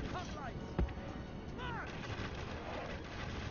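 Massed gunfire from troops in a Rome Total War battle, a steady dense crackle of distant volleys with one sharper thump, continuous throughout with faint bird-like chirps over the din.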